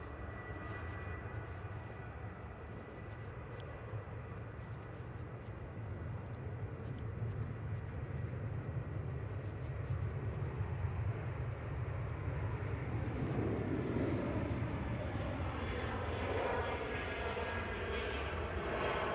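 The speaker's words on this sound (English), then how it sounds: "Ryanair about to start chasing that Easyjet down. It's off to Cork." A Ryanair jet departs Manchester Airport for Cork, its engine roar swelling gradually from a low rumble to a fuller, louder thrust over about twenty seconds, with a faint voice under it in places.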